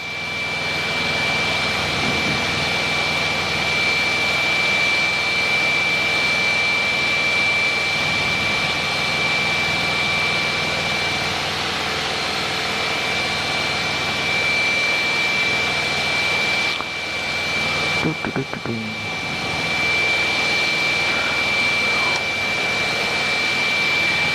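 Steady, loud roar of an aircraft jet engine held at set power during a flight between Honolulu and Kalaeloa, continuous with a high whine tone and a brief dip near the end.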